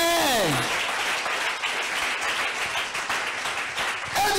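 A church congregation applauds, a steady dense wash of clapping that carries on throughout, with a brief rising voice at the start and another at the very end.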